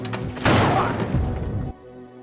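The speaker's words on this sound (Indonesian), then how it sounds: "Bob Lee kembali menemukan satu teroris lainnya dan menembak persis di kepalanya" A gunshot rings out in the action film Shooter as Bob Lee fires at a terrorist: one loud, booming blast with a rumbling tail that cuts off abruptly into a quieter background.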